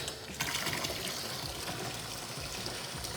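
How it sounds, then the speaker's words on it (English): Water rushes steadily through a Delta Roman tub hand shower hose into the tub, a continuous close hissing gush with faint splashing, quiet and unbroken, with no talking. "I'm gonna hold the hose to make sure the water's going back inside the tub"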